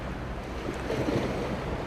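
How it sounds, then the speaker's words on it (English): Ocean waves lapping in a bay, heard as a steady, close wash of surf and water noise that holds an even level throughout, with no voices. "The waves continue moving, whether we pay attention to them or not."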